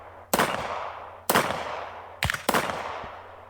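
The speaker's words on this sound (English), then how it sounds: "you've got to shoot from each side of the barricade" Four loud, close gunshots crack out at a shooting competition stage while firing around a barricade, spaced unevenly with longer gaps first and then two shots in quick succession, each leaving a decaying echo.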